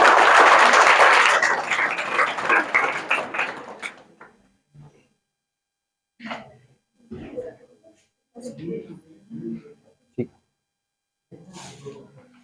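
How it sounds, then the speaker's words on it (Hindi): A crowd of students claps loudly for two teachers at a school farewell ceremony for classes 10 and 12. The dense applause lasts about four seconds and fades out, then someone speaks in short bursts separated by pauses. "एक बार इनके लिए भी तालियां।"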